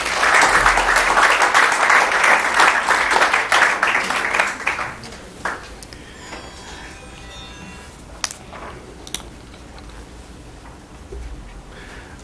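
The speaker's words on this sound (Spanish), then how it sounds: "Un aplauso, por favor." Audience applause at a university lecture in Guayaquil, Ecuador, a dense burst of clapping from a crowd that fades after about five seconds into a quiet room with a few scattered claps and small noises.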